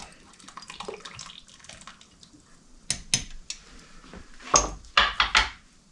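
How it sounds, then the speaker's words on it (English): Water poured and splashing out of a glass bottle held by the neck with tongs while bottling homemade hot sauce, a soft running trickle followed by several louder sloshing splashes and clinks near the end. "grab a bottle by the neck, dump the water out of it"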